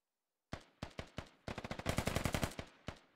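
Bursts of automatic gunfire in the tactical shooter game Squad, coming in several rapid, sharp volleys of near, loud shots with short gaps between them and no talk.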